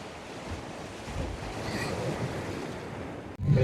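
Gentle ocean surf washing onto a quiet, secluded sea beach near Tajpur, with a soft, steady roar of waves mixed with wind buffeting the microphone; a sharper gust hits near the end.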